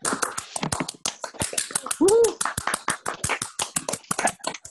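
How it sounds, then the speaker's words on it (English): Scattered, uneven clapping from online meeting participants with open microphones, a loose burst of claps at close range mixed with bits of chatter and background noise. "I want to have a random applause."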